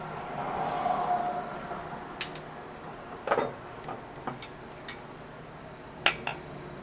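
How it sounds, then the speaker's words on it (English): Thick castor oil pre-poo hair mixture stirred in a bowl, with a soft scraping swirl followed by scattered light clicks and taps of the utensil against the bowl. "I'm stirring that up."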